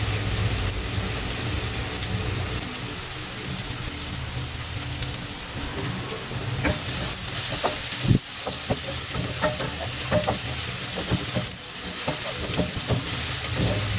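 Onions and garlic sizzle steadily in a hot pan for ginisang ampalaya while a spoon stirs them, with occasional scrapes and knocks over a dense, continuous frying hiss.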